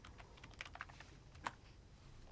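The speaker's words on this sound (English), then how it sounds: "So take your browser and type powerbi.com." A web address typed on a computer keyboard: a quick, quiet run of scattered key clicks with one sharper tap, close but faint, with no voice.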